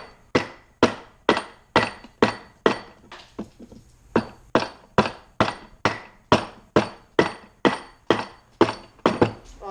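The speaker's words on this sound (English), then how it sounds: "use my hatchet" A hatchet chops wood clamped in a vise for spoon carving, sending out about twenty sharp, close blows in a steady rhythm, with a short pause near the middle.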